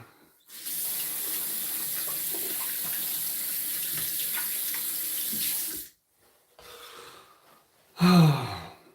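Steady stream of water running from a bathroom sink tap while a goatee is washed, a continuous hiss for several seconds before stopping, then brief splashes and a final short gush.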